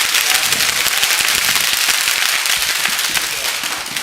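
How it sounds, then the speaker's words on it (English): An audience at a men's tall tales gathering gives a speaker a round of applause: dense, steady clapping from many hands close by, filling the room and slowly tapering toward the end. "Can we have a clap for him?"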